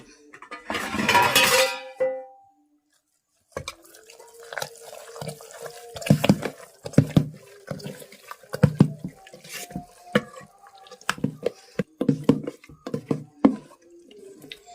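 Vattayappam batter mixed with cardamom powder is stirred in a vessel in a Kerala kitchen, giving wet sloshing and soft clinks of the utensil, with a louder splash at the start.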